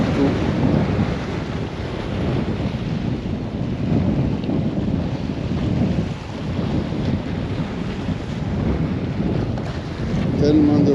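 Strong wind buffeting the microphone on a seaside jetty during surfcasting, a loud, continuous low roar with gusty swells throughout and no speech over it.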